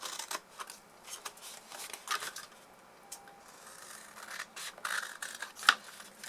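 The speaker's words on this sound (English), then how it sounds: "So we're going to cut into the middle 1 inch tab." Scissors snip through Stampin' Up! Candy Cane Lane designer series paper while a candle box is being cut out, giving a run of short, close, crisp cuts and paper rustles at a quiet level with no talking.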